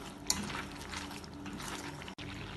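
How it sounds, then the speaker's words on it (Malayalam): A spoon stirs a wet mix of onion and tomato for tomato kurma in a pan, producing a soft, continuous squelching and bubbling hiss, close and quiet, with one small clink near the start. "ഇതൊന്ന് ഇളക്കി മിക്സ് ചെയ്യാം."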